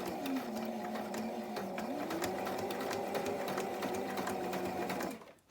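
A sewing machine top stitches vinyl for a coffin-shaped bag, running steadily and close up in a continuous hum for about five seconds before stopping abruptly.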